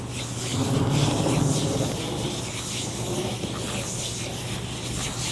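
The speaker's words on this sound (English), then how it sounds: "I'm just going to rub my gloves together" Close, steady rubbing and swishing of gloved hands against each other, continuous and broadband for several seconds with no talking.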